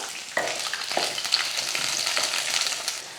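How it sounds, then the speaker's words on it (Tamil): Small shallots, garlic cloves and curry leaves fry in a pan for a spicy chutney, a close, steady sizzle with a few stirring clinks and scrapes. "ஒரு இருபது போல் சின்ன வெங்காயம் ஒரு நாலு பல் பூண்டு கொஞ்சம் கருவேப்பிலை சேர்த்துடலாம்"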